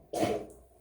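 A single sharp sneeze bursts out close by, loud and brief, then trails off into quiet within a second.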